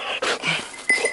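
A hunting dog out after small game whimpers in short, thin whines between pauses, fairly close, with a sharper yelp-like burst near the end.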